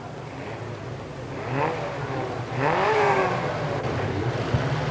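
Formula 2 racing cars pull away on the Crewe circuit, their engines rising in two or three revving sweeps that build in loudness, with a steady mechanical drone underneath throughout.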